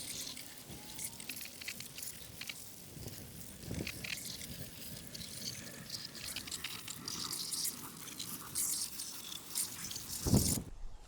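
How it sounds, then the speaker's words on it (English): A garden hose sprays water over a Roborock RockMow Z150 robotic mower, rinsing off dirt with a steady hissing wash and dripping splatter that carries on throughout, with a brief louder burst near the end. "since the mower is IPX6 rated, it's no problem using a hose to clean it off"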